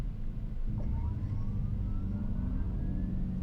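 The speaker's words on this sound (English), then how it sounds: "you click the PowerShot button without accelerating, it gives you a really cool sound letting you know it's ready" Dodge Charger EV PowerShot ready sound, a faint rising electronic tone sweeping upward over a low steady hum, heard alone without talk.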